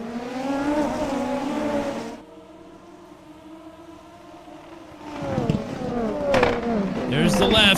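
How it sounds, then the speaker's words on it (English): Race car engines in a racing video game rev together as a prototype field lines up for a green-flag start on a street circuit, rising and falling pitches loud at first, easing briefly, then surging again while someone appears to talk over them. "Engines are revving."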